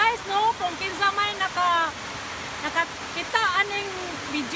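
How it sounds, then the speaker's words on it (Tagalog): A stream flowing near a spring makes a steady, broad rushing wash that lasts throughout. A person talks continuously over the water. "nag-agos nga tubig nga sapa"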